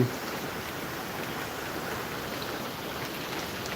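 Steady rain falling, a dense even patter on surfaces nearby, continuous and moderately loud with no talking.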